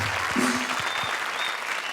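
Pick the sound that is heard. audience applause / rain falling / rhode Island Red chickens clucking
audience applause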